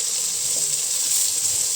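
Eggs fry in a pan with green pepper for a homemade Chinese stir-fry, giving a steady, moderately loud sizzle with no voices heard.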